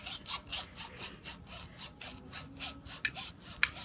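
A thin-bladed metal saw cuts through a Volkswagen T3 drop link bushing in quick back-and-forth rasping strokes, steady and rhythmic at close range, fairly quiet with a couple of sharp clicks near the end.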